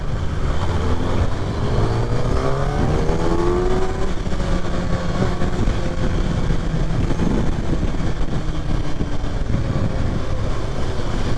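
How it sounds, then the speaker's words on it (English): A 2023 Kawasaki Ninja ZX6R 600cc motorcycle pulls away and accelerates, its engine pitch climbing through the gears over loud, close wind rush. "Let out the clutch a bit, give it a little bit of gas, and you're already going"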